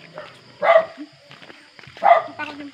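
A dog barks twice in sharp separate bursts, close by, with other faint sounds between them around an old elementary school.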